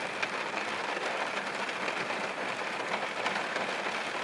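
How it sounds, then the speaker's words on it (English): Rain falls steadily on a car windshield, a constant close hiss of drops pattering on the glass without a break, with no voices. "Getting the rain running down the windshield."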